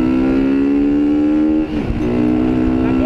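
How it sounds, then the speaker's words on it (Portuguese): A car pulls away and accelerates nearby, its loud steady engine tone climbing in pitch after a brief dip, heard from a rider on a Honda Today 125 motorcycle. "O carrinho arrancou ali, velho."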